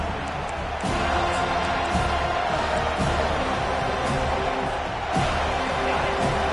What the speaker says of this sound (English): Here comes his home crowd as the defense tries to get off the field on third down.